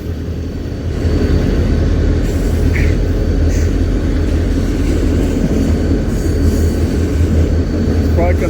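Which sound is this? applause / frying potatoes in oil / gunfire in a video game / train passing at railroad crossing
train passing at railroad crossing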